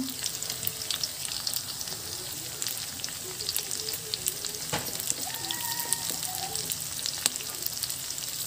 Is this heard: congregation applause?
no